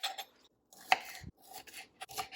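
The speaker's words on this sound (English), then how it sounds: "our next step is to cut up the green onion" Close, quick knife chops on a cutting board, an irregular run of sharp taps with brief pauses, no speech.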